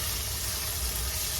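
Hot water poured into a pan of upma cooking with curry leaves, giving a short, steady, loud hiss of sizzling liquid with no pauses.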